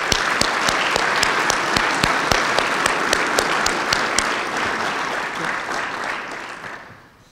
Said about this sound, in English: Please join me in showing our appreciation for his service with a round of applause